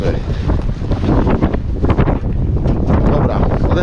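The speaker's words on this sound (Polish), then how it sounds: "Wiatr wieje i to ostre." Strong wind buffets the microphone in a constant loud roar with gusty surges at a house construction site, no other sounds standing out.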